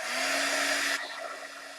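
A heat gun blows a steady, loud whooshing roar with a faint whine while drying a red cotton fabric heart, then drops to a softer, lower hiss partway through as the airflow changes.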